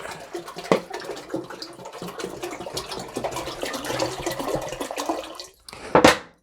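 Filtered water is poured into a pot for coffee wine, a close, uneven splashing and trickling that runs for several seconds, fades briefly, then ends in a short louder burst.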